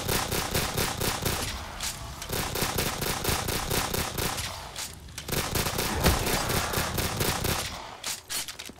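Dense, continuous automatic gunfire from the guns on a custom zombies challenge map, loud and rapid with brief pauses, fireworks-style bursts mixed into a constant roar of shots.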